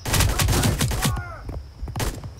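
Video game gunfire crackles in a rapid volley, loud and dense, then breaks off into shorter bursts and single shots.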